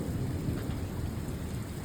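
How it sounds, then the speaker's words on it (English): Steady heavy rain and a deep continuous thunder rumble fill a hailstorm with lots of lightning, loud and close, with no voices. "Lots of lightning, lots of thunder."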